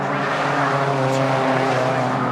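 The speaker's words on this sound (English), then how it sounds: "You can see the cars are literally sliding on the exits" Race cars in qualifying slide and skid out of corners, engines roaring loudly and continuously with tire noise mixed into the steady high-revving drone.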